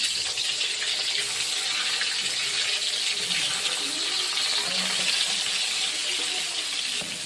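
Pointed gourd (potol) pieces fry in hot oil in a kadai, producing a continuous rushing sizzle with faint bubbling underneath, fairly close and steady from start to finish.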